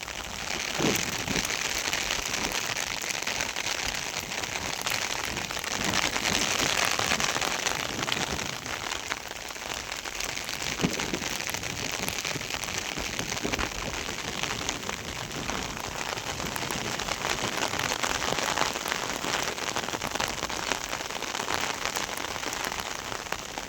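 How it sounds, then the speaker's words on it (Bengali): Heavy monsoon rain pours down steadily on surfaces, a dense, unbroken roar of drops lasting the whole stretch, with no voices. "আজ 4 দিন 4 দিন ধরে এত বৃষ্টি, এত পরিমাণ বৃষ্টি, অসম্ভব বৃষ্টি।"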